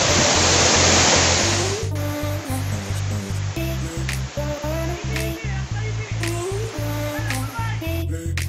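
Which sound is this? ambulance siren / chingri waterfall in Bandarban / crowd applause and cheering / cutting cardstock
chingri waterfall in Bandarban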